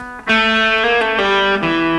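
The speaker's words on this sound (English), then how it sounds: "And then I'm doing a pull off." An electric guitar note is picked, then quick pull-offs drop it to lower notes, each ringing clearly with a slightly distorted tone.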